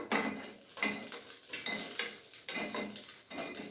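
Cooked paddu being lifted out of a paddu pan, with repeated light metal clinks and scrapes of a utensil against the pan in an uneven rhythm, close by and fairly quiet.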